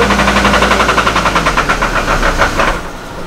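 A Hummer H3 with a check engine light and crankshaft position fault idling around 800 RPM with a rough rhythmic pulsing, running loud and close before the engine sound cuts off near the end.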